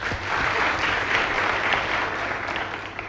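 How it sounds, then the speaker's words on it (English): A large audience at the Miss President Season 2 grand finale gives the contestants a round of applause: loud, dense, continuous clapping with a roomy wash, steady throughout and no talking. "So I need you all to please give them a round of applause."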